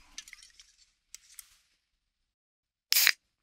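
A can of Coke Zero is cracked open in one sharp, loud burst of hiss and fizz after a stretch of faint handling noises and near silence.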